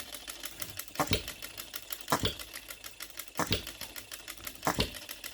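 A small OKMO Retrol B02 hit-and-miss engine fires in irregular bursts, sharp loud beats spaced about a second apart over a faint steady chatter of running.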